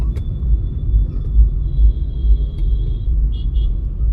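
Road traffic passes on a busy Delhi road, a low, continuous engine rumble with vehicles rolling by nearby and a faint high whine and brief squeak toward the end.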